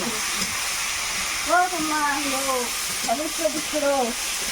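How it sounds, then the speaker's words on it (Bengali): Tomato frying in hot oil makes a steady, even sizzle and hiss through the whole stretch, while voices talk over it in the middle and near the end. "তেলের মধ্যে টমেটোটা মা মনে হয় ভেজে তুলে নেবে"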